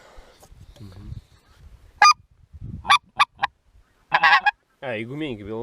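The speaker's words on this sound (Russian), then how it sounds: "А, и гуменники, белолобик, перемешку." White-fronted and bean geese honk during a goose hunt, with scattered calls that are loud and close, separated by quieter gaps where low voices can be heard.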